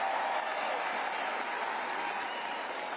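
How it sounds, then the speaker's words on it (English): A crowd cheers and applauds at a political rally, a dense, steady wash of clapping that holds evenly without letting up. "the cheers are so long"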